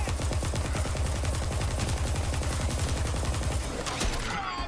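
Rapid smart-bullet gunfire in Borderlands 3, a dense, steady stream of closely spaced shots hammering on loud and near throughout, with a brief bright shimmer near the end.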